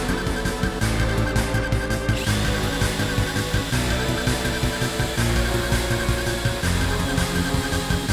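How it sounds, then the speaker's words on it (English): A power drill fitted with a step drill bit whines steadily and continuously, loud and close, with slight pitch shifts as it bites into material; no voices. "I used a step drill to make the holes"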